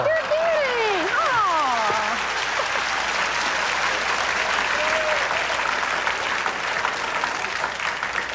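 A television game show studio audience applauds steadily, a dense even clatter of clapping throughout, with a few brief vocal exclamations and laughs at the start.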